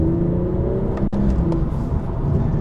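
A BMW M240i with a turbocharged straight-six accelerates, its engine note holding steady and strong with a rising whir and a brief dip midway, heard from inside or close by.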